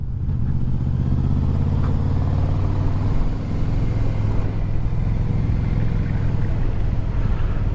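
Yamaha Vmax motorcycle engine pulling steadily in gear while riding, a loud continuous low rumble with rising tone and wind noise throughout.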